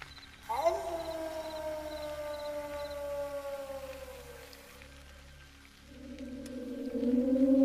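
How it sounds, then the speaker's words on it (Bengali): A jackal's long wailing howl rises and slowly falls, ringing out in the distance over a quiet night with a second drawn-out cry swelling toward the end. "আর দূরে কোথাও শিয়ালের ডাক ভেসে আসছে"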